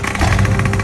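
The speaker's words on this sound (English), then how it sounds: "Start the engines, boys." Big RC monster trucks fire up their engines together, a steady mid-pitched motor drone with pulsing buzz, close and fairly loud throughout.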